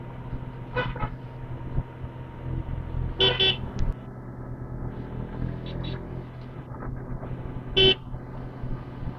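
Car horns in a heavy road traffic jam on the way from Siliguri toward Sonada, several short honks and toots scattered over a low engine hum, fairly faint, with no voices.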